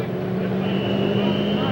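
A new pulling tractor revving up at a 10,000 lb Pro class tractor pull in Taylorville, Illinois in 1996; a loud, sustained engine roar holding high revs without letup.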